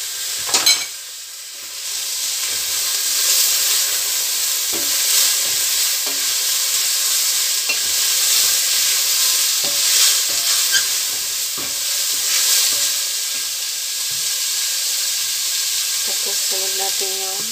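Onion, carrots, chilies and corn for lumpia filling sizzle steadily while being stir-fried in a pan, with occasional utensil scrapes and clinks, a continuous close frying hiss throughout.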